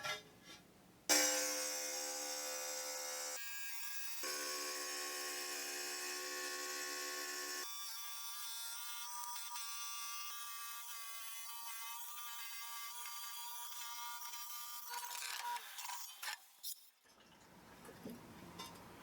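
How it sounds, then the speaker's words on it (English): A Diamondback 7-inch tabletop tile saw from Harbor Freight rips a 12x24 Italian porcelain tile: a piercing, ringing motor whine that starts abruptly, drops in pitch as the blade loads during the long cut, then winds down. "Let's now rip this hard 12x24 Italian porcelain."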